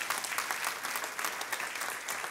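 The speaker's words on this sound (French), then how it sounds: "applaudissent bien fort." A church congregation applauds loudly, a dense, steady wash of many hands clapping throughout with no talking.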